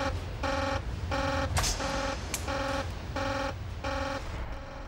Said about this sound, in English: He's all too used to alarms like this.